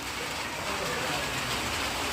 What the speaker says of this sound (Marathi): संध्याकाळच्या दरम्यान पावसाची सुरुवात झालेली आहे